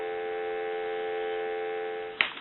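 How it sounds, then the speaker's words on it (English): A South American rotary telephone under repair gives a steady, continuous dial tone, fairly quiet and unchanging, which cuts off with a sharp click near the end. "Give you some dial tone."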